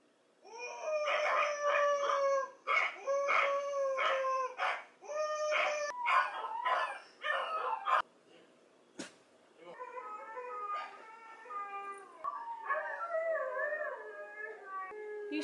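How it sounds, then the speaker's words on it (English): Recorded dogs bark and howl through computer speakers in a steady, fairly loud stream of yelps and drawn-out wailing howls, with several voices overlapping and a short pause midway. "I'm gonna play some videos on the computer of dogs barking and howling"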